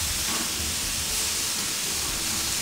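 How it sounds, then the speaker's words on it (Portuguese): Two beef sirloin steaks, unseasoned, fry in a pan, giving a loud, constant hissing sizzle that stays close and unbroken from start to finish with no voices. "Só vou colocar o contrafilé aqui. Vou fritar dois."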